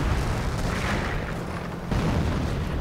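Artillery fire in a 1v1 real-time strategy game match, shells landing among stormtrooper units: a continuous rumble of distant booms and blasts, one burst standing out near the end, with no voices.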